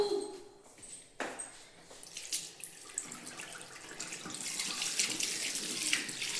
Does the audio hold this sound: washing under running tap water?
yes